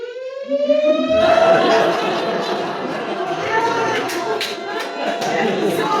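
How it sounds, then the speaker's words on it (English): A wailing EMT emergency siren rises and holds loud and close, with a crowd chattering underneath and some sharp clatter, at a talent show. "So Zach, that's the EMT siren."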